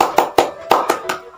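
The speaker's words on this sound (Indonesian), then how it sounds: "maka tepuknya seperti ini" Sharp hand claps in a short pattern during a children's classroom clapping game, five crisp claps in an uneven rhythm, close and fairly loud, with a teacher's voice underneath.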